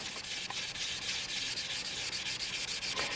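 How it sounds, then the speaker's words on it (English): Rapid back-and-forth sanding strokes rasp steadily and evenly against soft paint on a motorcycle part, close and continuous with no talking. "when you're sanding soft paint"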